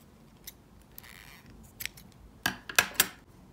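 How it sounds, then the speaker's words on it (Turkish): Sharp scissors snips cutting polyester macrame cord, a few light clicks early then several crisp close cuts in quick succession near the end, with no talking. "Ve burada ipimi kesiyorum."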